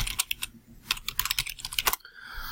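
A password is typed on a computer keyboard in close, quick bursts of crisp key clicks, pausing briefly midway before a final flurry of keystrokes.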